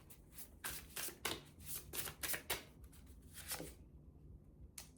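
Oracle cards being shuffled by hand for a reading, a run of quick riffling bursts and soft card slaps that come close and fairly loud, then trail off into near silence with one last flick.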